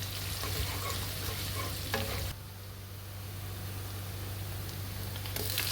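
Onion, cardamom, cinnamon and bay leaf are frying in oil left from crisping onions for chicken korma, making a loud, steady sizzle that settles slightly quieter partway through.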